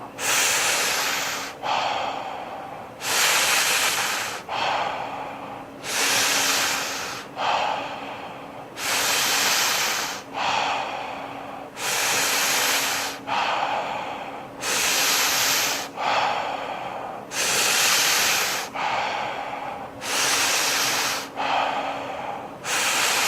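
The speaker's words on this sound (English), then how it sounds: "taking that inhale" Deep, forceful breaths in a guided breathwork round, a steady loud rhythm of long airy inhales and exhales repeating roughly every one to two seconds, close up and alone.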